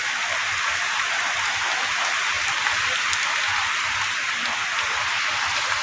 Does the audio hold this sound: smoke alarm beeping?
no